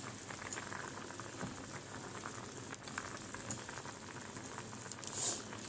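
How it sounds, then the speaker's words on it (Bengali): Curry simmers in a pan after water is added over Kashmiri chilli powder, giving a steady soft bubbling and faint crackle with occasional louder pops, close by and without speech. "এবারে ফুটবে, ফুটতে থাকবে।"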